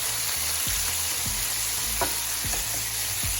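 Food browns in a hot pan ahead of a pig tails dish, sending up a loud, even sizzle and frying hiss with a few faint clicks and pops, no speech.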